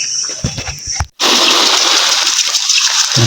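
Water sprays hard over garden plants in a steady, loud gushing hiss with splashing. It is broken by one brief pause near the middle, then resumes at full force.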